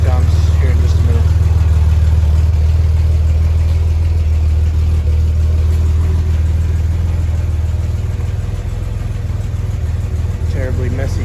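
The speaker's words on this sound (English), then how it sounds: "I wanted to start it up with the little muffler going here, and I'll rev it up a few times here in just a minute" A 1985 Chevy S10 engine with a Borla exhaust and small muffler runs in a garage, giving a loud, steady low rumble that stays constant for the whole stretch.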